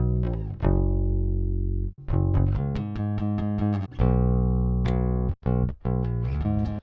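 A clean, unprocessed electric bass recorded through a direct input plays a run of sustained notes and quick plucked phrases, dry and close with brief gaps between passages.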